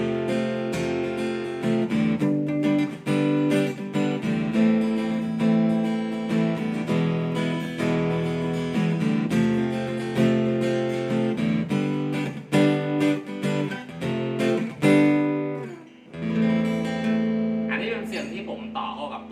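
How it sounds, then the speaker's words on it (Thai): Unplugged 42-inch jumbo acoustic-electric guitar, strummed, rings out steadily with chords and picked notes, close and clear, a brief pause near the end before playing resumes. "อันนี้คือเสียงกีตาร์เปล่าๆเลยนะ"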